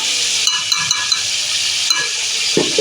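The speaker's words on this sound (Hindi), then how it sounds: "अब मैं इसमें ये लहसुन अदरक का पेस्ट डाल दूँगी" Garlic ginger paste goes into mutton karahi frying in a pot, with a steady bright sizzle and a few light stirring clinks and scrapes close by.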